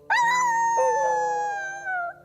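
Dogs howl in a cartoon: a long, loud, drawn-out tonal howl that bends downward, with a second howl joining partway and a brief rise near the end, close and clear with no talk over it.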